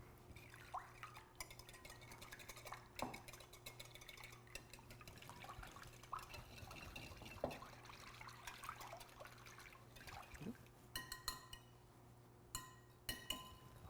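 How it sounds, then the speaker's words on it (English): Eggs and lemon juice are whisked together in a bowl at a cooking workshop, with quiet irregular clinks and faint liquid swishing over a low room hum. "we're going to whisk them together"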